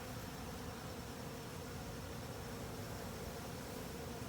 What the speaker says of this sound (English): honeybees have found the honey